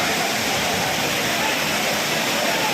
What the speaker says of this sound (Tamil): 5 அருவியில் சரியான தண்ணி குளிக்க நல்லா அழகாக இருக்குது.